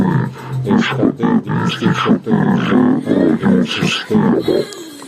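A voice run through a wireless karaoke microphone system's voice effect, deep and growly, speaking in short bursts with brief pauses, close and fairly loud.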